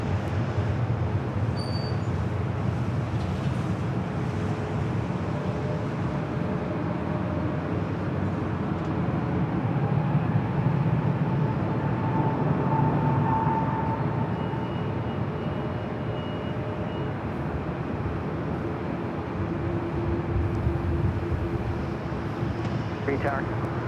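A jet airliner rolls for takeoff on runway 24 left at LAX, its steady engine roar sustained and fairly distant throughout, with a faint radio voice talking over it.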